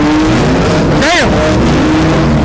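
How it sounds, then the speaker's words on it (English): Infiniti car pulling away at a busy car meet, its engine revving in a short loud burst that rises and falls over steady crowd noise, with people talking throughout. "A man pulling off in the Infinity."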